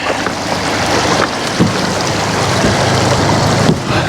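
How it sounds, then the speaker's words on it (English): An outboard motor runs on a boat out on a river, a dense steady drone mixed with wind rush and splashing water, loud and close throughout with no talk. "Well, the motor seemed to be running good."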